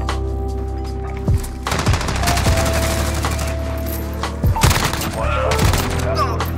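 AK-47 rifle fire in the Modern Warfare video game, rapid loud bursts of automatic shots in several close clusters with booming impacts between them.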